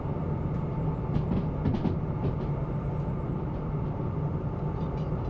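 A freight train rolls steadily after its brakes release in the Derail Valley simulator game: a continuous low rumble with faint rail clatter, quiet and even throughout, with no talking.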